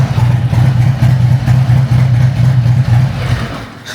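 A motorcycle fitted with a Bone Shaker exhaust idles nearby, its loud, low, steady lumpy throb pulsing evenly throughout and easing slightly toward the end.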